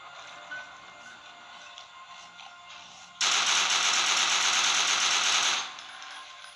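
Sustained burst of rapid automatic gunfire in the horror video game Monster Clows, loud and continuous for a couple of seconds over quieter game ambience, no talking.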